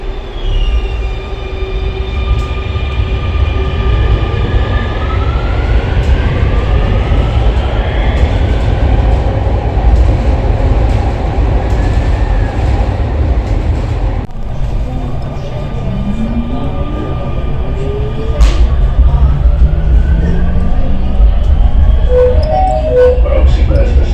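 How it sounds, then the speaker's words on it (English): Loud, continuous rumble of a train in motion in Barcelona, with rattling wheels, rising and falling motor whine, and occasional squeals. "let's now ride a train on upper bunker level."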